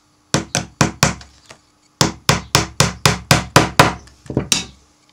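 A hammer drives a tack at an angle into the wooden top bar of a beehive frame, giving sharp close knocks in two bursts: about four quick blows, a pause, then roughly ten steady strikes ending in lighter taps.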